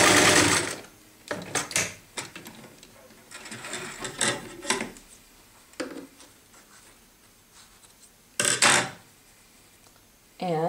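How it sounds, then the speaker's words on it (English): A sewing machine stitching down fabric scrap strips for a pieced quilted babushka, whirring in short runs with brief stops and mechanical clicks between them, fairly close with faint speech in the background. "I'm going to just sew this down"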